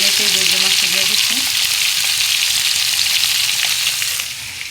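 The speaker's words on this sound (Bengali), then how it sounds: "মাছটি ভালো চড়াই দিচ্ছি, একবার পুরো ভালো করে ভেজে নিচ্ছি" Kachki fish frying in a pan gives a steady, loud sizzle that fills the clip. Low clattering stir sounds come in near the start, and the sizzle softens slightly at the end.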